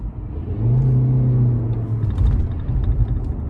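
A 2022 Lexus UX 200 with a CVT pulling away under moderate throttle, a steady droning engine hum rising in a smooth whir over road rumble, heard from inside the cabin.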